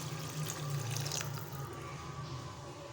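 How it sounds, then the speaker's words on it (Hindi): A bowl of water is poured into a pan of fried vermicelli and vegetables for savoury namkeen seviyan, giving a close, splashing gush that is strongest at first and then eases into a lighter trickle. "तो 1 बाउल हम इसमें पानी का ऐड करेंगे।"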